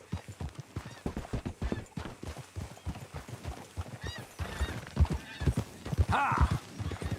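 Hooves clip-clop in a steady, rhythmic gallop from a horse in Red Dead Redemption 2, fairly close, with a snort or whinny toward the end and a faint voice briefly heard.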